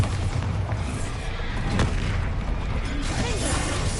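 Bombarda spell explosion in the Hogwarts Legacy video game: a booming blast with a sharp hit near the middle, set inside a dense, continuous wash of loud game combat noise.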